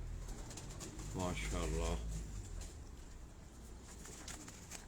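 Pigeons cooing on a rooftop, a short run of soft, rhythmic throaty coos near the middle, set against faint outdoor ambience, with a voice speaking briefly.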